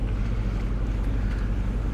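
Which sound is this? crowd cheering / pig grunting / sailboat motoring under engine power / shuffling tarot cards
sailboat motoring under engine power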